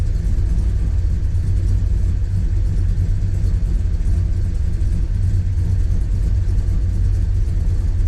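A warmed-up 1965 Plymouth Satellite V8 idles with the throttle released, a loud, steady low rumble with a slight uneven pulse throughout and no talking.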